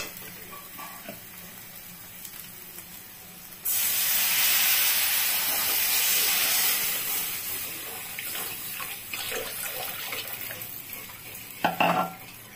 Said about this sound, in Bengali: এখন আমি জল দিব।